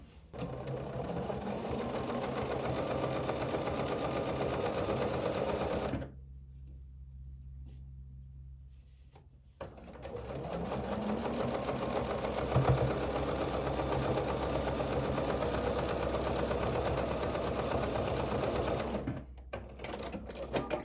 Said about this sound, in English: So I'm going to sew one side.